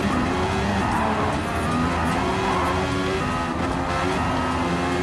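Mercedes-AMG F1 race cars roar off the start in the Gran Turismo Sport video game, with loud sustained engine whine, rising revs and tire squeal filling the whole stretch.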